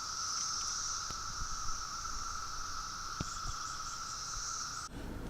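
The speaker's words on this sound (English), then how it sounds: "So these are cicadas." Cicadas drone in a humid summer forest, a steady, loud, high-pitched buzz holding for several seconds with no one talking, with a few faint clicks underneath.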